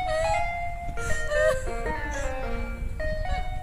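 Ice cream van chime melody playing steadily as the van drives away, fairly loud with street noise underneath and no talk.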